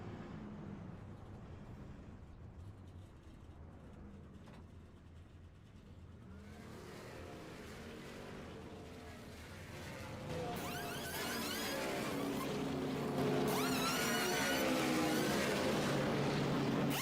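Colonial Clash Racing Series race trucks rolling down pit road at Darlington Raceway, engines droning steadily and then swelling louder and busier toward the end as more trucks arrive, with a faint voice underneath.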